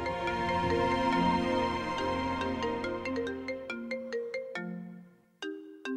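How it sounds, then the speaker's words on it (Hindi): A phone ringtone plays a repeating melodic tune, steady and clear, then pauses briefly before starting again near the end. "फोन आ रहा है तुम्हारा।"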